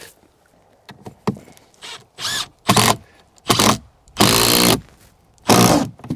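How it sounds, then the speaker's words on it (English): A power driver sinks screws into the wall of a DIY micro cabin in a snowy setting. Several loud, close bursts of whirring motor are separated by short pauses, and the later bursts run longer. "let's see if we can suck this in with some screws"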